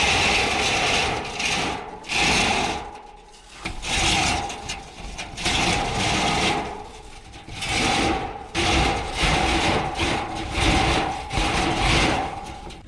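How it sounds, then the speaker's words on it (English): Semi-rigid 4-inch furnace duct being fed through an RV frame, giving repeated loud scraping and rasping strokes in bursts with brief pauses between them, close up and without talk. "I'm going to attempt to feed this 4-inch back into its home over there, bring it through the frame"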